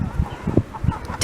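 Chickens on a farm give a brief burst of clucking and fowl calls, with one sharper squawk at the end, set against low background noise and faint voices.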